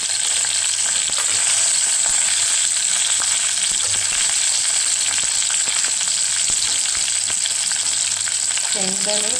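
Peanuts frying and sizzling in hot oil for chitranna, with green chillies already in the pan; a steady, loud, continuous crackle fills the whole stretch without pause.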